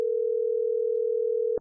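A telephone ringback tone from an outgoing call that goes unanswered: one steady, unbroken electronic tone held for about a second and a half, then cut off abruptly.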